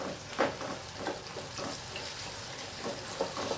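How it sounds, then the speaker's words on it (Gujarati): Onion and loosened garlic chutney sauté in hot oil for Kathiyawadi sev tameta, a close continuous sizzle with periodic stirring clatters and spatters. "તેલમાં એકદમ સાતડી લેવાનું બધું સુગંધ આવી સતડાઈ જાય ને ડુંગળીને આ લસણની ચટણીને"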